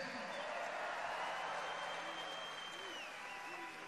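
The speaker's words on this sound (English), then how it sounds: "Big round of applause for Mayor Kathy Meehan." A rally crowd claps and cheers in a dense, steady wash of applause that stays at an even level throughout, with faint voices inside it.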